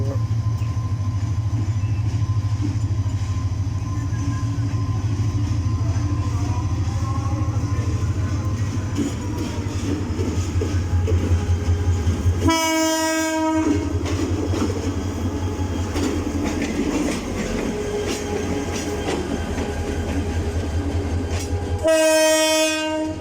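A train rumbles loudly and continuously at Sylhet railway station, with two blasts of its horn, one midway and one near the end, standing out over the steady rolling noise.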